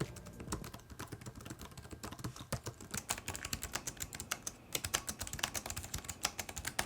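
Rapid, soft clicking of keys typed on the keyboard of an MSI GE76 Raider gaming laptop, an irregular steady patter close by with no talking.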